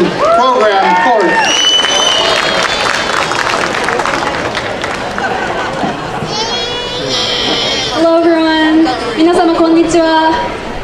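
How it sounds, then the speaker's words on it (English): An audience applauds and cheers for the Northern California Cherry Blossom Program Court at a Soy and Tofu Festival in San Francisco's Japantown, a steady crowd roar with voices and shouts running through it. "please give a big round of applause for the Northern California Cherry Blossom Program Court"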